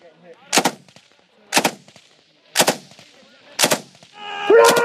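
Gunfire in a firefight between British forces and the Taliban comes as four sharp, well-spaced shots at roughly one-second intervals, followed by a louder, denser burst at the end.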